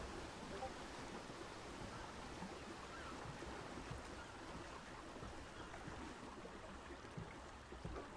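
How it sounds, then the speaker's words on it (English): Waterfall in the game Ark: Survival Ascended, a faint, steady rushing wash of falling water running unbroken the whole time, with no other distinct sounds. "Yeah, oh, that's the waterfall."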